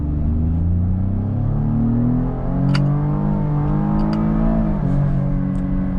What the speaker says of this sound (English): So we have the V6. Let's just test out some acceleration.